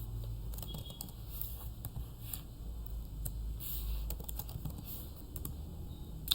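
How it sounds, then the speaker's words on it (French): Command being typed on a computer keyboard in a Linux terminal, quiet soft key patter running steadily throughout over a low background hum. "je peux taper cette commande"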